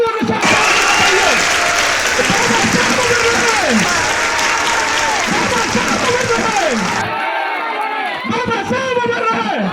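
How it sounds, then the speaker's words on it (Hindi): A large crowd claps loudly and steadily for several seconds at a mass Buddhist Dhamma initiation gathering in Moradabad with a professor, thinning slightly near the end as a voice speaks over it. "जोरदार तालियों के साथ"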